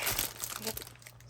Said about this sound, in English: sorry if you don't like noise, the sound of the bags